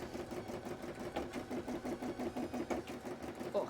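A sewing machine stitches sequins onto a cosplay costume, its needle chattering in a steady fast rhythm at low volume. The whirring runs on without a break and is fairly close.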